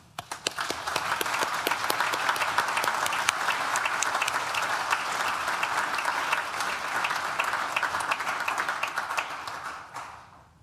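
A large audience at a Nottingham Business School graduation ceremony claps, building quickly to a loud, dense roll of applause with some sharp individual claps standing out, sustained for about ten seconds before cutting off.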